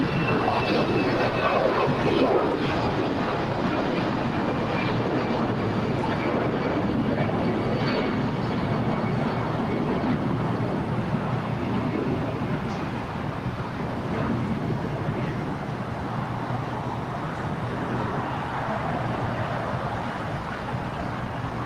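Air China Boeing 777 airliner landing at Los Angeles International Airport, a steady, broad jet roar held at a distance throughout, with wind buffeting the microphone.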